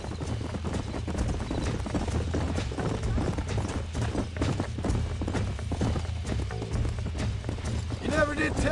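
Hooves clip-clop in a galloping rhythm as a horse runs in the Western video game Red Dead Redemption, steady and fairly loud under background game sound and voices.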